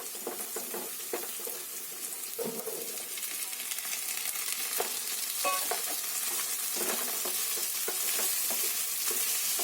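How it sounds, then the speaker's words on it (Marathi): Green peas and onions fry in hot oil while a spoon stirs them, a steady bright sizzle with irregular scraping knocks up close, moderately loud and without speech. "वाटाणे पण चांगले कांद्याबरोबर असे शिरवून घ्यायचे, चांगले फ्राय करून."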